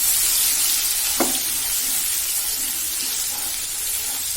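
Crushed garlic sizzling in hot oil with mustard seeds, cumin, asafoetida, turmeric and curry leaves for bhindi sabzi over lowered gas, a steady close hiss with a brief clink partway through.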